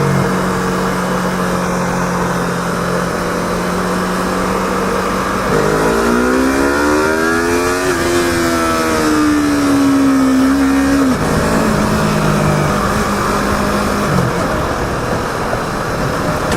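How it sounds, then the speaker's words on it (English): A Yamaha R3 motorcycle on its stock exhaust accelerates past, the engine note climbing steadily as it passes, then settling back to a steady drone. "This bike doesn't sound bad for stock exhaust, actually."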